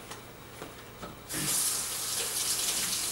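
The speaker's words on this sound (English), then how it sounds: "I'm going to wash my hands real quick." Hands are washed under a running kitchen tap: after a second of quiet with faint clicks, the water comes on and a loud, steady hiss of flowing water fills the rest, close and uninterrupted.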